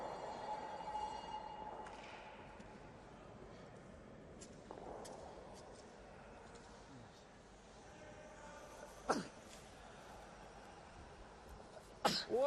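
Two sharp sneezes burst out, one in the middle and one near the end, over a faint, quiet background at a junior curling championship match.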